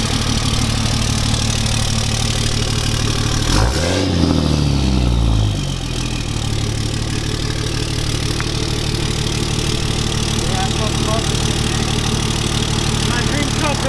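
A newly bought truck's engine idles steadily at close range, a low constant rumble with a brief louder surge partway through, while people talk over it.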